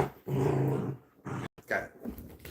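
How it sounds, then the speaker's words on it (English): A small dog growls up close in one sustained low rumble, then gives a few shorter, broken growls and grumbles with brief pauses between them. "He's a little bit of killer dog."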